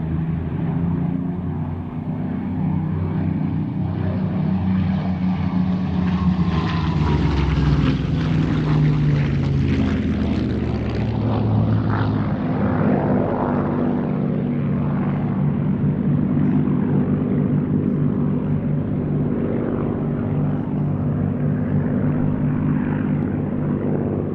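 A loud, steady propeller engine of a Spitfire or Me109 fighter in a dogfight over Kent drones throughout, its pitch shifting slightly as it roars close by.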